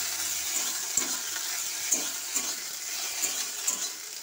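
Okra frying in a pan for a sour puti fish and okra dish, a steady soft sizzle with occasional light clinks and stirring scrapes, close and alone.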